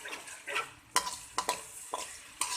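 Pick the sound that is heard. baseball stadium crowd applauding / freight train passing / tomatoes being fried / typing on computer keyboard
tomatoes being fried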